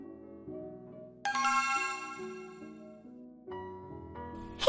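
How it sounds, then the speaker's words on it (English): A doorbell chimes in a home, with a bright ringing tone entering partway through over low sustained musical notes, followed by a second chime near the end, moderately loud with no talking. "I've been ringing the doorbell for like 20 minutes already."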